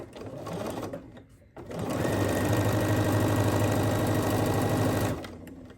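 Sewing machine stitching a quilt block, a brief whir, a pause, then a loud steady mechanical hum with rapid needle chatter for about three seconds before it stops, close up with no talking.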